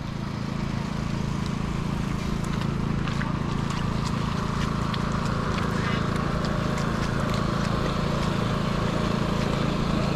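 An engine runs steadily at a landslide rescue site in a mountain village in Lào Cai with no power supply. It makes a continuous low rumbling drone throughout, with faint background activity and occasional voices.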